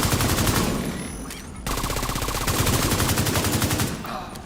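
Rapid automatic gunfire in The Division 2 video game, loud sustained bursts of densely repeated shots with a brief lull partway through, continuous and close.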